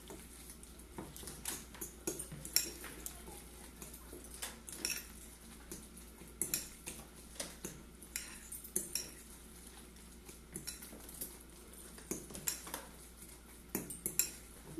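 Spoon scraping and clinking against a bowl while mashed egg yolk filling for deviled eggs is mixed, a quiet, steady series of irregular metallic taps and scrapes throughout, with no talking.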